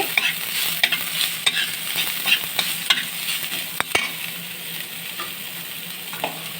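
Radish greens stirred in a frying pan with salt and turmeric, giving a steady sizzle with repeated scraping and clacking strokes of a spoon against the pan, close and alone without talk.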